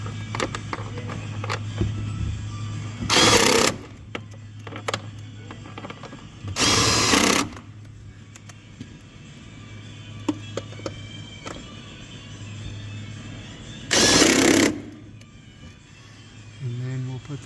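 Short bursts of a power driver tightening 10mm bolts on a Jeep Wrangler auxiliary battery, three brief whirring runs spaced apart, with someone talking throughout.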